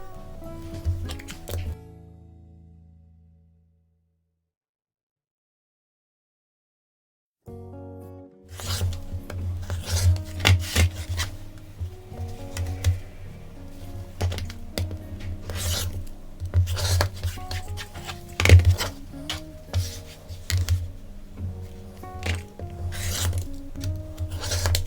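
Rotary cutter trimming fabric half-square triangles against a ruler: repeated close scraping and rubbing strokes with soft thuds, after a short stretch of near silence at the start.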